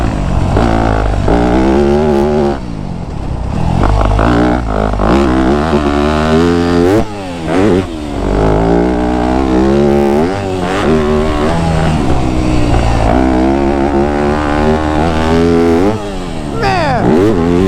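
A Yamaha YZ250F dirt bike ridden fast over a jump-filled track, its engine loud and close, revving hard with rising and falling pitch through repeated throttle bursts and shifts.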